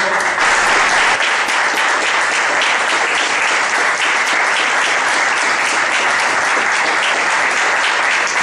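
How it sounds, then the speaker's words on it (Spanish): Loud, sustained applause fills a council chamber at a San Martín council session, dense steady clapping from a full room running without a break and with no voices standing out. "le pido un fuerte aplauso"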